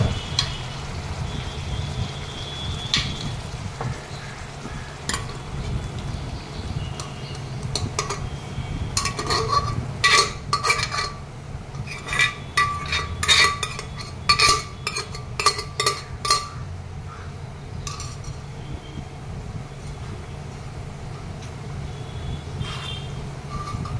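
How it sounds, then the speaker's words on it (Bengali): Lentils tipped into spiced masala for dal makhani and stirred in a pot, a steady run of metal spoon scrapes and clinks over a low cooking hiss, busiest in the middle, with no talking. "এর মধ্যে আমি এবারে ডাল দিয়ে দিচ্ছি"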